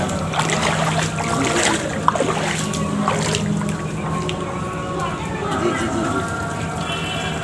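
Water runs steadily at a temple foot-washing place, a soft continuous trickle and splash beneath people talking nearby and faint crowd ambience.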